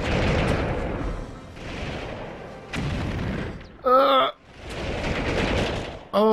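Grenade explosions and gunfire in the video game Army Men 3D, repeated heavy booming blasts in bursts with a short musical or electronic cue between them and a voice at times.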